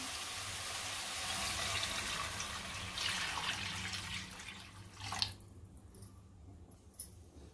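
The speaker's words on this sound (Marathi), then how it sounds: "आता आपण पाणी घालूया याच्यामध्ये" Three bowls of water are poured into a pan of softened pineapple for sheera, a steady close splashing gush that stops abruptly, followed by a few faint drips and clinks.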